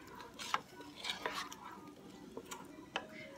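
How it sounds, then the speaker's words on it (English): Stirring a seasoned mixture in a crockpot for deer cube steak, a spoon scraping and clinking against the pot in several short strokes, fairly quiet and close. "you want to make sure you stir all this well before you add the cube steak"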